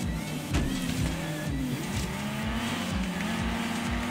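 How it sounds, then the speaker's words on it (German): A car drifting in the racing game Forza Horizon 3, engine droning steadily while tires squeal and warble through the slide, with repeated thumps and scrapes across the run, loud and close. "Ah, noch ein Drift mit rein und noch ein bisschen Zerstörung."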